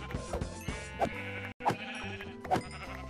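Minecraft sheep bleat several times in a survival world, short wavering cries spaced about a second apart over background game music, with one brief dropout.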